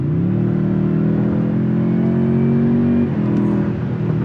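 A Toyota Tundra Hybrid pickup engine accelerates with a loud, steady rising drone, then the pitch drops sharply as the transmission downshifts near the end, with the engine continuing to pull hard and no talk over it.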